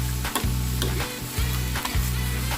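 Beef stir-fried with holy basil and eggplant sizzles steadily in a pan, broken by a few scraping stirs at regular intervals, close and alone with no voices.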